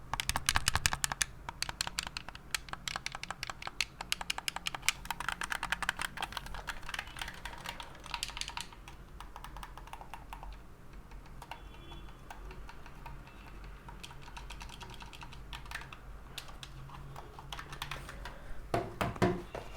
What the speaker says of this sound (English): Yeah, the Xbox One wireless controller. I'll do a quick sound test.